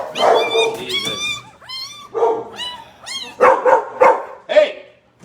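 Mother dog and her puppies bark and yip close by, a quick run of sharp, high yelps and short barks with brief whimpering gaps, fairly loud and alone.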